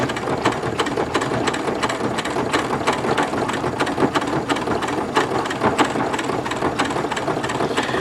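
A Janome MC9900 sewing machine stitches through leather in a fast, even mechanical clatter that runs steadily and close up without pause.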